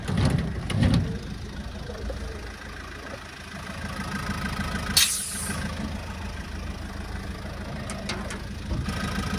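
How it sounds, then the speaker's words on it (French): A car engine idles with a steady low rumble and faint vibration throughout from a worn engine mount, one brief hiss midway. "Je sais pas si vous entendez, la voiture elle tremble un peu"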